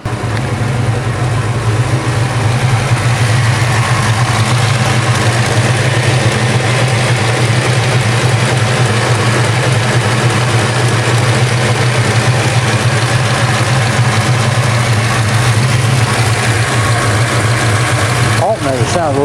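A vehicle engine idles right after an Aeromotive 340 fuel pump was installed, a loud, steady low rumble that holds without a break throughout, with a brief disturbance near the end.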